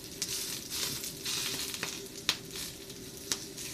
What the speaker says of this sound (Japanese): もったいないのでネギを焼きます